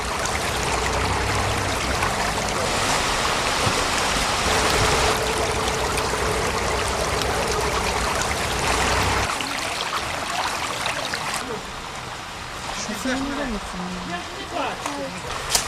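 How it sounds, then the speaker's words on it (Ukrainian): Pond water surges through an old pumping station onto a street in a fast, powerful flow, a loud continuous rushing wash that later eases as voices talk over it. "Вода із тамтешнього ставка через стару насосну станцію швидким та потужним потоком ринула вниз на вулицю"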